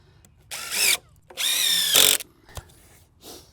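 A power drill drives screws into the rim joist of a DIY garden shed: two loud whirring bursts of roughly half a second and one second, the second ending in a higher strain, with short quieter clicks and handling noise between them.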